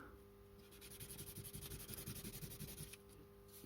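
Close, faint scratchy rubbing as a bit of cardboard is worked quickly back and forth over the brushes of an AFX Magnatraction slot car motor, with a dense, even rhythm and no talking.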